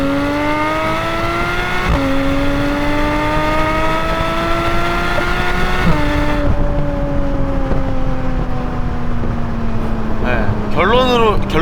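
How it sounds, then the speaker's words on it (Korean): Stock exhaust of a Porsche 718 Cayman GTS 4.0 pulling hard through the gears, its rising wail dropping at two upshifts before settling into a steady drone, loud and continuous. "순정 상태로는 요런 정도의 배기 사운드가 난다"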